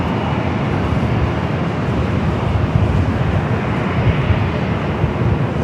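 A Swiss Boeing 777-300ER heavy jet arriving at LAX from Zurich makes a loud, dense, continuous engine roar at close range, broad and unbroken throughout.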